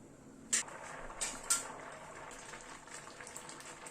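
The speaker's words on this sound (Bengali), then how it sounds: "একটু ফুটে উঠুক।" Milk with carrots simmers in a pot on the stove, a faint low bubbling with a few sharp clicks near the start and no one speaking.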